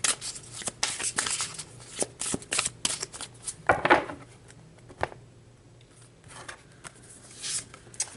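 Tarot cards shuffled and drawn by hand, with bursts of riffling and soft slapping patter that come in irregular clusters and then thin out to quiet brushes near the end.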